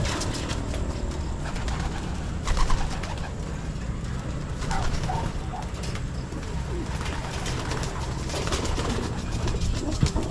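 Pigeons cooing in a loft among hens and their young, a steady mass of soft low coos from several birds close by, with constant background noise throughout.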